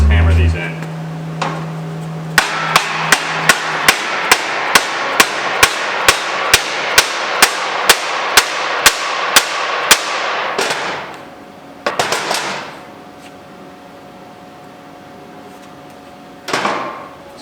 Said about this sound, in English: Should be able to just hammer these in.